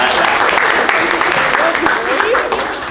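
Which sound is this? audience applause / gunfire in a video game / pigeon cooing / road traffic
audience applause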